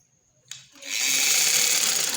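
A sewing machine starts with a click, then runs steadily at high speed with a loud, continuous whirring rattle, close and alone.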